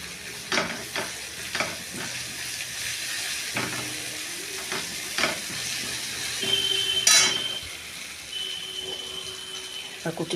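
Stirring and frying in a pan before taro greens go in, steady sizzle with repeated scraping stir strokes and clinks, plus a brief running-water burst midway.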